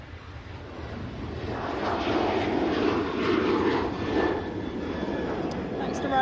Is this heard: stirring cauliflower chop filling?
no